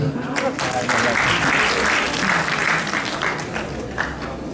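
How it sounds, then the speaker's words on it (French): An indoor audience applauds maestro Cheikh Tidiane Seck at a Baromètre 2023 event, dense steady clapping filling the room throughout with voices mixed in. "Je vous demande de l'applaudir."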